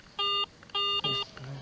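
Metal detector ringing on a likely aluminum target found among junk in a vacant lot: two steady electronic tones, each lasting about a quarter second, followed by a brief tail. Faint background noise sits underneath.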